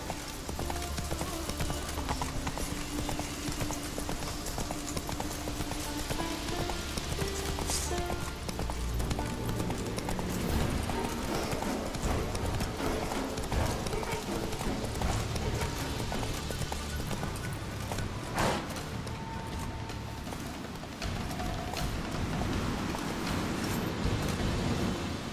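Roach the horse galloping in The Witcher 3, a steady rapid clip-clop of hooves running for the full stretch under a dense game soundtrack and ambient noise.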